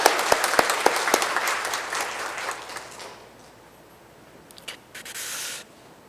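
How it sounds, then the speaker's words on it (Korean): A church congregation claps in encouragement, loud and dense at first, then thinning out and fading within a few seconds, leaving quieter room noise and a brief late hiss. "격려 박수하겠습니다."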